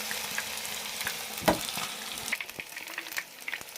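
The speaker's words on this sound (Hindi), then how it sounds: "मेरी मछली जो है फ्राई हो गई है।" Fish fillets frying over low heat in a pan give a steady soft sizzle and crackle, with a few louder spits and pops breaking through the continuous hiss.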